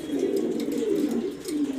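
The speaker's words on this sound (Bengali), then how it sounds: "এটা নর কবুতর, এটা নর কবুতর, এটা নর কবুতর, এটা মাদি" Pigeons, several males and a female, coo steadily in low, throaty rolling phrases close by, with no talk over them.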